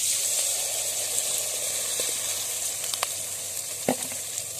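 Beaten country chicken eggs poured over salted, softened onions in a hot pan for a pepper fry, giving a loud, continuous close sizzle with occasional spatula scrapes and taps.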